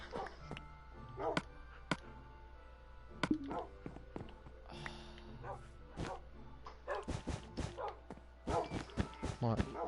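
Dogs in the video game Minecraft give short, scattered barks and yips among clicks and thunks of game sounds, with people talking over them.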